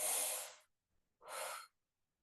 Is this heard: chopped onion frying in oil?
no